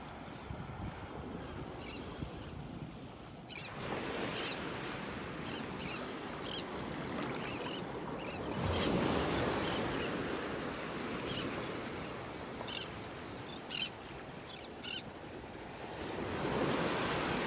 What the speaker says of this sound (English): Those are terns that you hear.